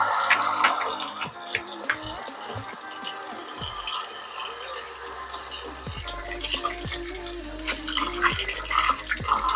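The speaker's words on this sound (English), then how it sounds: "Wash these hands." Running tap water splashes continuously as hands are washed at a sink, with scattered clinks and a low hum underneath.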